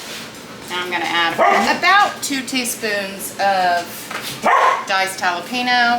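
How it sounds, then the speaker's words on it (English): Several dogs bark and yip playfully and repeatedly in a home kitchen, close and loud, mixing with a person talking through a cooking demonstration. "Apologize for the dogs, clearly they're having fun"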